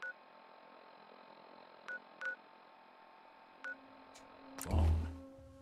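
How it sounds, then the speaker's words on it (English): A phone is dialed in the Fallout 4 video game, with a handful of separate keypad tone beeps spread out, then a louder electronic chirp and connection tone near the end, with no talk. "Phone."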